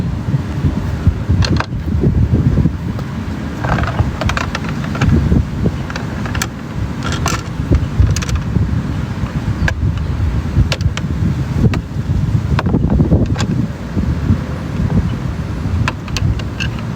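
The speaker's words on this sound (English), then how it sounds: "It is like, it's kind of breezy" Outdoor breeze buffets the microphone with loud, rumbling wind noise that surges and eases in gusts throughout, with no speech.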